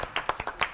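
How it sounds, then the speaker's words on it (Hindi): A few people clap for a contestant on a Hindi riddle quiz show, several sharp, separate claps sounding close in a quick uneven rhythm. "आप तालियां बजाएं अपने लिए"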